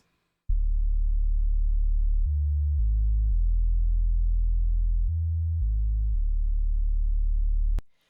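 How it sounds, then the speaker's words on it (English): Very deep, almost pure sub-bass synth tone used in electronic music production, sustained for about seven seconds at steady loudness while stepping through several low notes, then cutting off with a faint click. "This super deep bass. Here's an element that needs a lot of texture."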